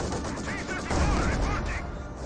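Maxim machine gun fire in Company of Heroes 2 (Spearhead mod), a dense, steady rattle of rapid shots mixed with distant battlefield gunfire and explosions, continuous and fairly loud throughout.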